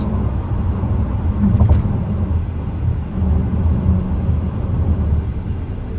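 A Tesla Model X electric car driving, heard from inside as a steady low road rumble and tire noise, with a brief knock partway through.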